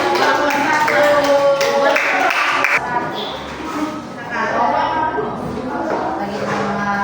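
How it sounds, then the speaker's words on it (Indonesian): A classroom group of students claps for a presenting group during a teaching practice session, a burst of hand claps up front that fades, followed by people talking nearby. "Tepuk tangan untuk kelompok 1"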